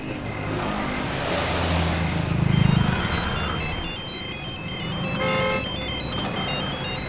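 A mobile phone ringtone plays continuously, repeating its tune without being picked up, fairly loud and steady against a soft background hum.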